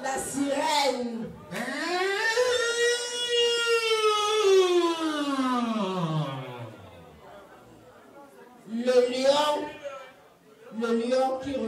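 A voice imitates a siren as part of a game at a birthday celebration: one long wail that rises and then falls, framed by short vocal bursts and nearby chatter.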